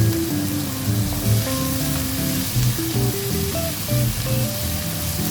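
Curry leaves and ginger garlic paste sauté in hot oil in a pan for a tangy mushroom gravy, with a dense, continuous sizzle close up and faint stirring, and no speech.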